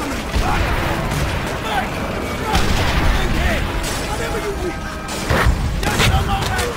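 Rapid gunfire and distant explosions crackle through a World War II video game battle on the Seelow Heights, a dense mix of bursts and booms under shouting voices.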